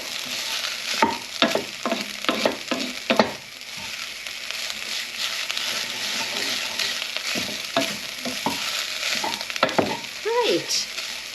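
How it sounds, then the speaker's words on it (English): Bolognese mince sizzling steadily in a frying pan while a utensil stirs and scrapes through it in irregular bursts, close and continuous, with no talking. "just let that fry off just for a few minutes."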